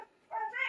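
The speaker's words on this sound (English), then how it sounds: "These dogs are wanting out." Dogs whimpering because they want to go outside: a short, high, nasal whine that rises in pitch, close and moderately loud, with no talking over it.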